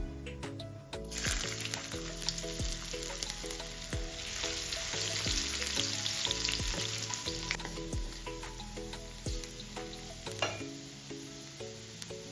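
Chopped ginger sizzles and fries in hot oil with cumin, a steady crackling hiss that stays loud and continuous, with occasional stirring scrapes and soft background music.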